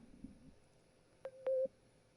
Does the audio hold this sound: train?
no